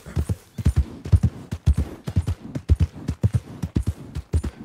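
Horse hooves clip-clop in Red Dead Redemption 2, a close, loud, steady trotting rhythm of paired hoof strikes continuing throughout, with no voices.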